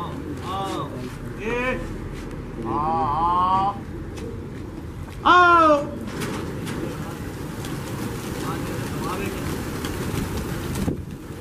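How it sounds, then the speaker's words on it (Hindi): A flock of racing pigeons takes off from a rooftop, with wing flutter and coos mixed among bursts of close talk and light wind noise on the microphone. "से भी उड़ रहे हैं दोस्तों कबूतर"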